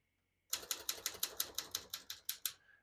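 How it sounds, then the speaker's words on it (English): A 1958 Smith-Corona Skyriter portable typewriter clacks out about a dozen crisp, evenly spaced keystrokes close up after a short pause, then a faint mechanical settle at the end. "We're going to keep that on single for now and finish typing."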